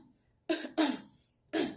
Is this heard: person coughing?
yes